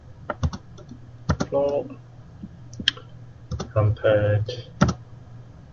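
Fast typing on a computer keyboard, close and moderately loud, comes in irregular bursts of key clicks while someone speaks over it.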